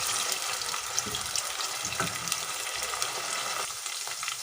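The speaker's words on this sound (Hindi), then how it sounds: "प्याज हम लाइट ब्राउन ही करेंगे, हम डार्क ब्राउन नहीं करेंगे" Onions frying in a pan for chole curry, a continuous hissing sizzle at moderate level with occasional scraping ticks, heard alone without speech.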